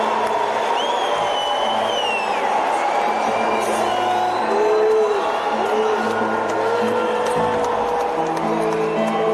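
A live concert crowd chants a drawn-out name that sounds much like booing, a loud, steady roar of many voices with cheers and whoops rising over it.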